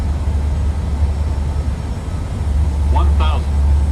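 Korean Air airliner on final approach to runway 36 left in Microsoft Flight Simulator 2020, a steady loud low engine drone throughout with brief radio-style voice chatter near the end.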